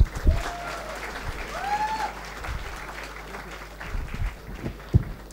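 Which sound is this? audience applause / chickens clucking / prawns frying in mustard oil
audience applause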